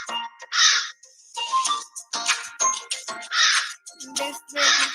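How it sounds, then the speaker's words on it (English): A crow cawing repeatedly, with several harsh, loud caws in an irregular rhythm, close by and with nothing else under them. "One hot summer day, a crow became very thirsty."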